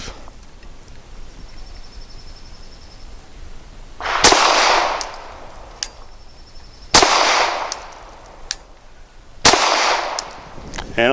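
Canik TP9 Elite Combat pistol firing 100 grain lead-free rounds outdoors, three loud, sharp shots spaced a few seconds apart, each ringing briefly in the open air.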